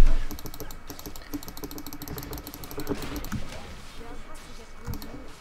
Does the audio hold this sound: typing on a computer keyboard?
yes